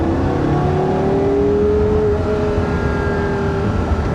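A Porsche Carrera GT's V10 engine pulls hard on a wet track, a loud continuous roar with a steadily climbing pitch heard from inside the car, no talking.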